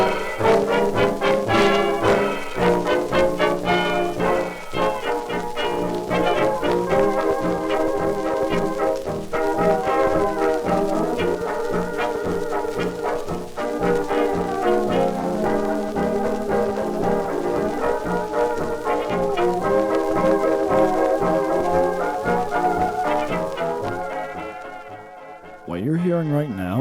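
A 1926 record plays as a full dance band with steady rhythm and layered melody. It runs continuously for over twenty seconds before fading out near the end.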